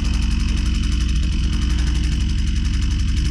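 A Husqvarna 122C string trimmer's small two-stroke engine idles near 2760 rpm during carburetor adjustment, giving a steady, close, buzzing drone with a fast regular pulse and no speech over it.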